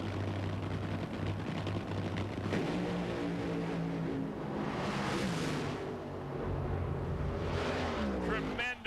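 NHRA drag racing cars roar continuously at a 1995 nationals event, a loud, harsh engine blast with shifting pitch as the cars pass, mixed with broadcast commentary.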